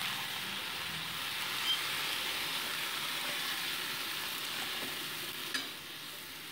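Bottle gourd and potato pieces fry in a pan with a faint, steady sizzle, joined by soft stirring and an occasional light clink.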